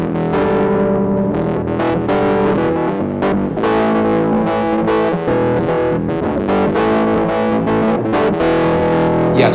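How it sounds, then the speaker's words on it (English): A heavily distorted vibraphone-like HALion instrument patch plays a busy run of struck notes, gritty and saturated, loud and continuous throughout. "we can see that the distortion is really cranked out here"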